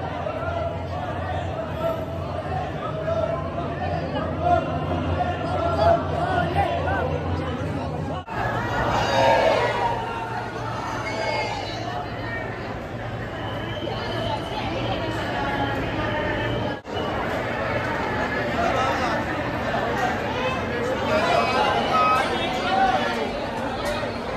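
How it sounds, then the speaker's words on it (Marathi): Dense crowd chatter at Omkareshwar and Ujjain Mahakaleshwar jyotirlinga temples, a steady close murmur of many voices, louder and busier in the middle stretch with two brief breaks in the texture. "गर्दी भरपूर आहे."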